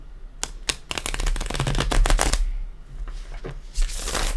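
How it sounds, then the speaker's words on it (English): Tarot cards being shuffled up close, a rapid flurry of crisp riffling clicks followed by softer sliding and shuffling noises. "I want to go ahead and give it a couple shuffles."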